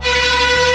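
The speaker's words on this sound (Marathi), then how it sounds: "बापरे केवढे हॉर्न वाजवतात" A loud, sustained vehicle horn blares without a break at a busy bus stand in Haridwar, a single long steady honk close by.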